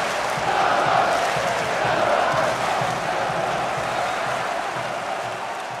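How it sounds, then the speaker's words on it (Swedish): Kalmar residents cheering in the newly built Guldfågeln Arena, a sports ground in Kalmar, Sweden: a steady, dense crowd roar with some clapping, holding at an even level for several seconds. "Här jublar kalmarborna för förnybar värme."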